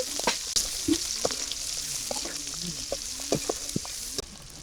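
Chopped onion frying in a pan over a village kitchen fire, with the sizzle of prawn and turnip already cooked; a steady hiss runs throughout with occasional clicks and stirring knocks, fairly close.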